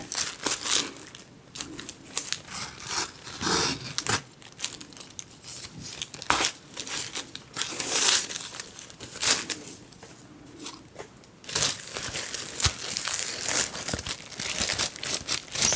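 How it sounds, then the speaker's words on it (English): Silk paper crinkling and tearing as vintage finds are unwrapped from their packages, close, soft rustles in uneven bursts with brief pauses, and no talking. "Silk paper."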